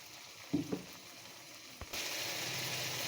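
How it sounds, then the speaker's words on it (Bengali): Mustard fries lightly in a pan for a mustard fish curry, a few soft knocks early on, then a steady faint sizzle that swells near the end, with no talk. "সর্ষে বেশি ভাজলে তেতো হয়ে যাবে, অল্প একটু ভেজে নেব।"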